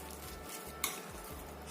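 Quiet scraping strokes of a spoon stirring cake batter after an egg is added, soft and close, with one brief clink against the bowl midway.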